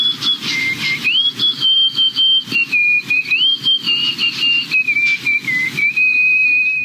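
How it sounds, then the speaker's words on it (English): A woman whistles through her nose: a sustained, wavering high-pitched tone that shifts pitch several times, broken by brief breathy pauses, loud and close. "Can you nose whistle?"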